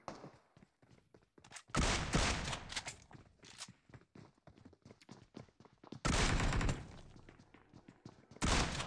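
Bursts of automatic gunfire from an auto gun in PUBG Mobile on the Rozhok map, loud clustered volleys around two, six and eight and a half seconds with scattered lighter shots and movement sounds between.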